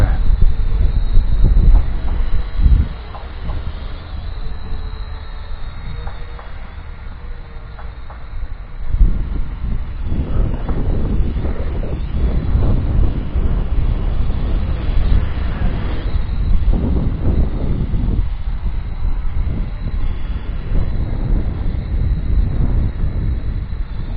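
A TYH TY-T6 Phantasm drone flies in windy conditions, giving a steady high-pitched whine throughout under heavy low wind buffeting that swells and drops.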